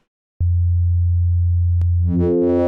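An FM synthesis tone built from a sine wave with a triangle wave added starts abruptly as a loud steady hum, then turns brighter and buzzier with growing harmonics near the end.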